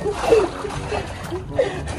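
Water splashes while something is rinsed outdoors, with close, uneven sloshing and spattering and a few louder splashes in a short burst; a voice is faintly audible underneath.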